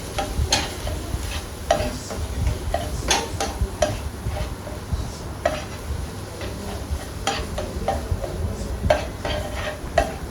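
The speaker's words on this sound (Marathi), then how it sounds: "आणि चांगलं परतून घेऊया ते." Crab curry masala with turmeric fries in oil in a pan, a low sizzle broken by sharp, repeated scraping and clinking strokes of a spoon against the pan at an uneven rhythm.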